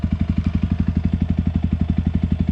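Yamaha WR 155 R motorcycle engine running at a steady idle, a close, even rapid thump of low pulses with a slight rattly overtone, no voices.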